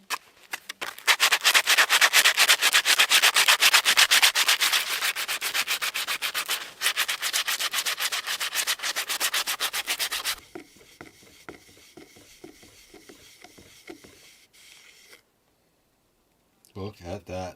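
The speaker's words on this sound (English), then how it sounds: "So I'm just gonna sand it a bit. Get some of that old green off," Sandpaper rubs old green paint off aged wood in a fast, steady scratching rhythm, loud and close for about ten seconds, then quieter scraping strokes before a brief pause.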